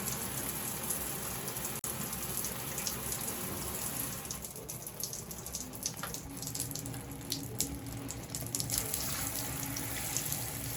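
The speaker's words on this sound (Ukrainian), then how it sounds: "Так, це у нас верхній душ неожиданно." Water pours steadily from a newly installed overhead shower head, a continuous close hiss of spray that runs unbroken throughout.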